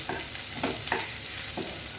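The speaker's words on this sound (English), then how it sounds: "I'm stir-frying the onions" Onions sizzle and crackle steadily in a hot pan, with a few soft scraping stirs cutting through the frying hiss.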